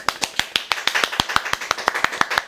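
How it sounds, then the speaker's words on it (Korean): A small group claps to welcome a guest on a talk show, a quick, steady run of close, crisp claps with an even, almost rhythmic pulse. "박수!"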